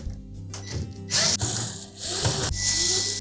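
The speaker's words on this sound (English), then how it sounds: "Then we'll remove 2 screws from either side of that" Screws come out of the support bracket on a Samsung dryer under a ratcheting driver, with quick, close clicking bursts separated by short pauses.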